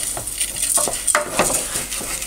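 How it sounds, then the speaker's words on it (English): Risotto rice and onions being stirred in butter in a pan, a spoon scraping and clinking against the pan in irregular strokes, close and moderately loud with a faint sizzle underneath. "give it a really good stir around, because we don't want the rice to burn or the onions to burn"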